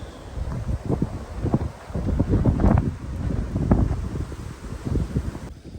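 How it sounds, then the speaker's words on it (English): Gusty wind on the Pacific Crest Trail buffets the microphone in rough, irregular bursts, rising and falling with low rumbling blasts throughout. "it's still windy even down here in the bottom ground"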